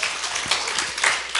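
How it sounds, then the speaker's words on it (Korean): A church congregation claps briefly during a sermon, a short burst of mixed hand claps at moderate loudness with some scattered accents. "박수 한번 쳐주세요."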